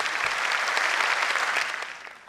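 Audience applause at a Hindi kavi sammelan of comic poetry, a dense sustained burst of clapping from a live crowd that holds steady and then tapers off near the end.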